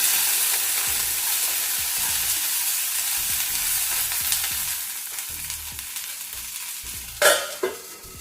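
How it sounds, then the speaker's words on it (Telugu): Steady sizzling of tamarind frying in a pan for chutney, with repeated scraping stirs and a couple of louder clanks near the end. "ఈ చింతకాయ అంతా కూడా మెత్తబడే వరకు వేయించుకోవాలి"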